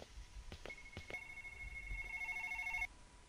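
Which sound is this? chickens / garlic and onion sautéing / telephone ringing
telephone ringing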